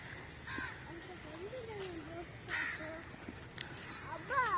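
Crows caw in a dry botanical garden at Madhavaram, giving several harsh calls at moderate distance while people talk over them.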